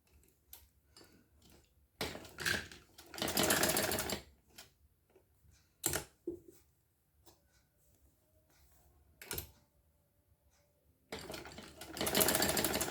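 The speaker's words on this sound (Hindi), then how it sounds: "ये जो जिगजैग की डिज़ाइन है यहाँ पे हमें रखूँगी कपड़े पर, और इस तरह से मैं सिलाई कर दूँगी पूरी" Sewing machine stitching a zigzag design onto trouser fabric, heard in several loud bursts of rapid mechanical stitching separated by quiet pauses and a few soft clicks.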